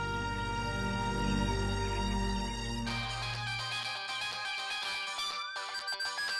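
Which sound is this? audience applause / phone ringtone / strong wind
phone ringtone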